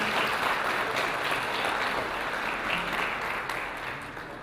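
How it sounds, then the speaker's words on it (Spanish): An audience applauds at a Mexican government launch event for the International Decade of Indigenous Languages, a continuous, even patter of many hands, moderately loud and fading slightly toward the end. "Aplausos, por favor"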